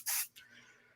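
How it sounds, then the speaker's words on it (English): Hair spray hisses from a can onto a set hairstyle at a salon trade show: one loud burst, then a second softer spritz that trails away. "Let's go ahead and get a little bit of a spray on it"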